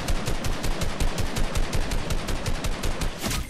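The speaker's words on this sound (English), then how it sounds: "Oh my god, I got sniped." Gunfire in the Fortnite battle royale video game, sounding as rapid, evenly spaced shots in a steady loud burst that runs for several seconds without voices.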